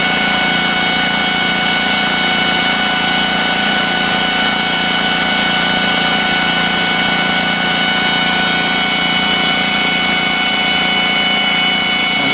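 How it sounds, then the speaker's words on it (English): Foxhunter 3hp 90-litre air compressor with its motor running, a loud, steady, unbroken mechanical drone with a high whine, constant throughout with no talk. "it's coming back up to a sustained 6 bars with the motor running"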